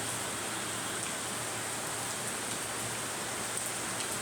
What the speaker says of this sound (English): it's raining because it's daily rain